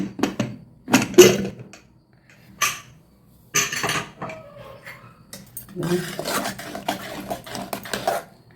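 Pressure cooker of fever kanji set down on a stove, with a series of metallic clanks and knocks of pot and lid at irregular moments, close, with talk mixed in.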